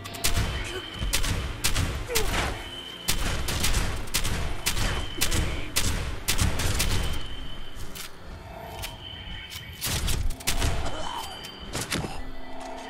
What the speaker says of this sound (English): Oh, you had a grenade launcher.